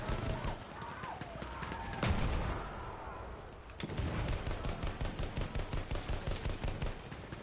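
A light tank in Battlefield 1 fires during a multiplayer frontlines match: heavy booming shots, one sharp blast near the middle, then rapid rhythmic gunfire thumping along, with voices talking over the battle.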